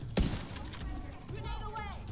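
Gunfire in The Division 2 aimed at a grenadier's bomb pack, one sharp shot up front followed by muffled rapid fire, with someone talking over it.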